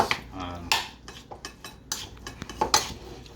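A utensil mixes a stuffed-shell cheese filling with basil in a bowl, giving close, irregular scrapes and clinks against the bowl, with a few sharper knocks among softer stirring.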